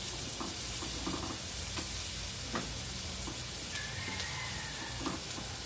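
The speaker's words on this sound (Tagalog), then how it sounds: "Dito naman, lagay natin ang ating sibuyas." Onion sizzles in butter in a pan over very low heat, a steady soft frying hiss with occasional light stirring clicks and scrapes, close and alone without talk.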